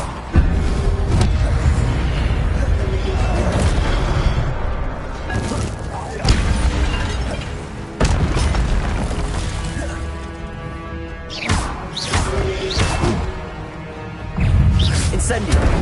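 Incendio fire spells in Hogwarts Legacy strike again and again, bursting as booms, crashes and shattering impacts over a continuous loud game soundscape with voices mixed in.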